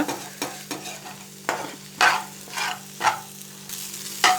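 Close scraping of a spoon stirring egg fried in a couple of spoons of oil in a pan, with irregular strokes spaced about half a second apart over a soft sizzle and no voices.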